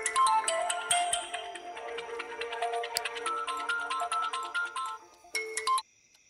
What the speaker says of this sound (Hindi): किसका फोन है? मम्मा का फोन है, स्कोर पूछने के लिए किया होगा।